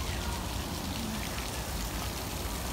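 Light rain drizzling in Mei Foo park, a steady dense patter and hiss of drops that stays even throughout the clip, with no voices.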